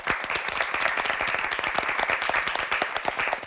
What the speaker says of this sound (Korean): 박수로 환영해 주십시오.